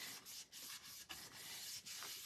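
Wax is rubbed back and forth onto a small wooden spindle in steady strokes that make a close, soft, continuous scratchy friction sound with brief pauses and no talking.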